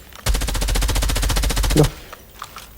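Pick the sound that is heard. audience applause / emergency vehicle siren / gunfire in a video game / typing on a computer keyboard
gunfire in a video game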